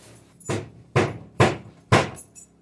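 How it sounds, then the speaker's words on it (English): A hand hammer taps the top of a wooden board at an outhouse build, four sharp, evenly spaced knocks ringing out close and loud, with a couple of faint lighter taps trailing after. "Tap the top. Let Gwen tap the top. Yeah, hand hammer right there"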